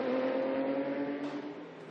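Ligier race cars running downhill from La Source at the Spa circuit, a steady engine drone heard from a distance that shifts in pitch as the cars pass and then fades.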